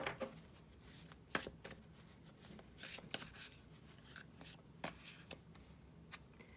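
Tarot cards shuffled by hand, soft papery riffles and slaps in irregular bursts up close, ending as a card is drawn from the deck; quiet and without talk.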